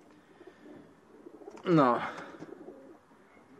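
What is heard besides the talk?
pigeons cooing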